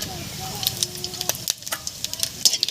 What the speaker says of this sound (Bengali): দিয়ে দেবো হাফ চামচ মতো গোটা জিরা